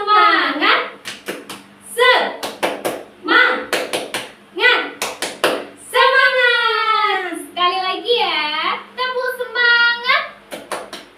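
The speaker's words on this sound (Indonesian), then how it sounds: "Yuk kita tepuk semangat." An Indonesian classroom of children performs the rhythmic 'tepuk semangat' clapping chant, bursts of sharp hand claps alternating with loud sung and chanted voices in a lively, patterned cadence.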